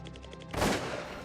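A single loud gunshot cracks out during a pheasant hunt outdoors, a sharp blast with a lingering rumbling tail following a moment of quieter background.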